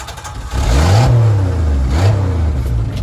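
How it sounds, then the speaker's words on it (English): A four-stroke gas-powered weed eater engine, running on plain gasoline rather than an oil mix, revs up loud and close in two rising surges and holds a strong, steady drone in between. "this weed eater, it's a 4-stroke"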